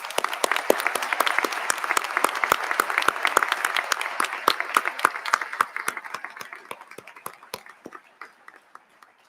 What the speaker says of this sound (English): Please join me in another round of applause for our inductees.